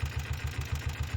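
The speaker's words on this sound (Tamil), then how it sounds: "இப்போ இன்ஜின் ஆனில் தான் இருக்குது" A Royal Enfield Bullet diesel motorcycle engine idles steadily with a low, even pulsing rhythm, close and continuous with no talking; the bike has a faulty rectifier-regulator unit.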